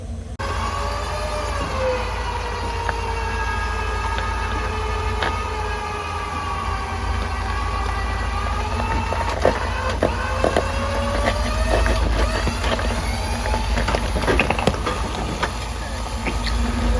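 A winch strains to pull a Jeep with a snapped rear drive shaft out of an off-road creek crossing, its whine rising and sliding in pitch over steady outdoor noise, with scattered clicks and clanks near the end.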